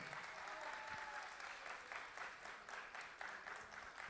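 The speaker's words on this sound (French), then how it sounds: "j'aimerais qu'on fasse un tonnerre d'applaudissements s'il vous plaît pour tous celles et ceux qui ont rendu cette journée possible" Audience at a FIFA 23 esports playoff final giving a sustained round of applause, steady clapping from a sizable crowd that fills the room for the whole stretch at a moderate, distant level.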